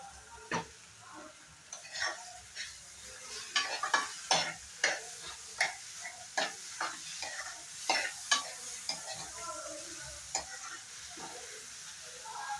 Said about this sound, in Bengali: এখন আবার ভালো করে ফ্রাই করে নিব।